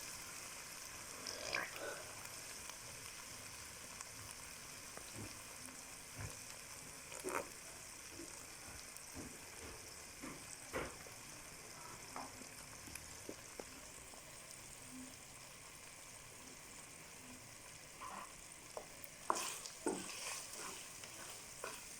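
A faint, steady sizzle of oil heating in a cooking pot for chicken makhni handi, with scattered soft clicks and clinks running throughout and no talking.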